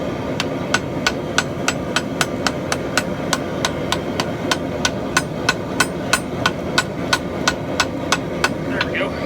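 A hammer strikes steadily on a forge weld of a farrier rasp being shaped into a tomahawk, with sharp metallic blows at an even, quick rhythm, about three per second, loud and close over a low background hum.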